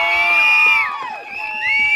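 A campus crowd cheers for students, with loud sustained whoops and high shouted voices that dip briefly in the middle and then swell again.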